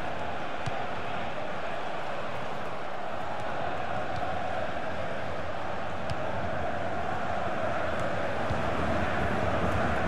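A stadium crowd cheers in a FIFA 16 football match between Borussia Mönchengladbach and Borussia Dortmund, a loud, steady roar that fills the whole stretch without a break.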